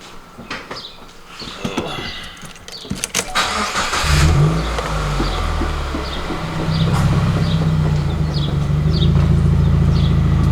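A Subaru WRX engine cranks over and starts, then settles into a steady running rumble that rises as it is revved to about 3,000 RPM, close by, with some clicks and rattles beforehand.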